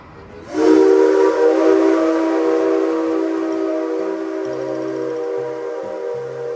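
An express train's horn blares loudly in a sustained, chord-like tone as the train passes, with rumbling rail noise underneath.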